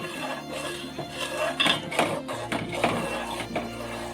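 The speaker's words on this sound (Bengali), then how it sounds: "এবার আমি এখানে আগে থাকতে ভাজা রাখা আলুগুলো ছেড়ে দেবো।" Pre-fried potatoes being added to a poppy seed paste masala in a pan for vegetarian Kashmiri dum aloo, heard as soft taps and utensil scrapes against the pan over a low background hum.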